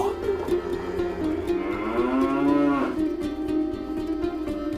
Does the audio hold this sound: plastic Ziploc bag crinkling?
no